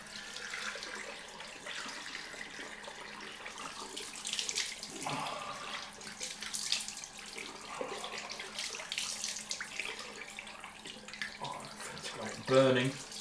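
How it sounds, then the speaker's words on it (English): Tap water runs steadily at a sink for a cold rinse during a wet shave, a continuous close splashing hiss that lasts throughout with small clatters near the end. "So let's get the cold rinse on the go."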